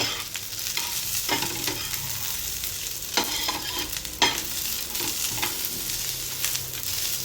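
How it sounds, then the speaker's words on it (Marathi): Garlic, ginger, onion and coconut roast together in a pan for mutton masala, with a steady low sizzle and repeated spatula scrapes and stirring knocks, close and with no talking. "लसूण अद्रक कांदा खोबरं सर्व एकत्र भाजून घ्यायचे आहे।"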